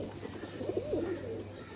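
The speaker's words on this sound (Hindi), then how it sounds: "अच्छा वो बड़ा कबूतर है, ये नॉर्मल साइज का कबूतर है।" Pigeons coo softly in a brief, low, rolling call, faint against a steady background hum.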